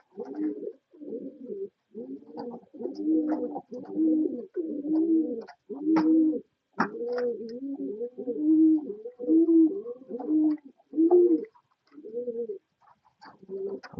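Fancy pigeons coo in a steady run of low, rounded, throaty phrases, close and clear, repeating with short gaps throughout and no other sounds.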